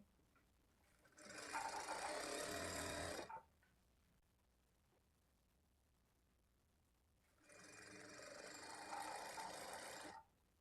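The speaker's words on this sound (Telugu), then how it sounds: "ఇలా స్టిచ్ చేసేటప్పుడు క్లాత్ని కొంచెం ఇలా లాగినట్లుగా పట్టుకుంటూ స్టిచ్ చేసుకోవాలి" A sewing machine stitches piping onto cloth in two distinct runs, each a few seconds of fast, even whirring, separated by a quiet pause, close and clear with no talk.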